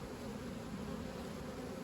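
A steady, low buzzing of honey bees droning continuously close by during queen caging, faint and even with no other sounds.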